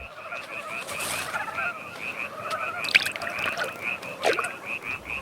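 Frogs croak in a steady, overlapping chorus of repeated calls, a few louder ones standing out close by over a constant background hum.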